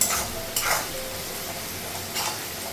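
Onions fry in a pan at home, giving a steady soft sizzle with a few brief stirring scrapes. It is quiet and close, with no talk.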